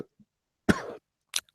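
A single short, harsh cough close by, followed by quiet and then another brief burst of throat noise.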